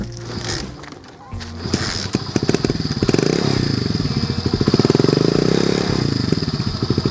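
A motorcycle engine starts after carburetor servicing: a few cranking thumps and a brief pause, then the engine catches into a steady, close, throbbing idle with a rev swell, under faint talk.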